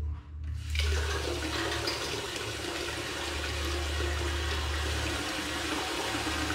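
Hot water tap opened on a water heater under repair, releasing a steady, loud rush of running water that starts abruptly and continues evenly.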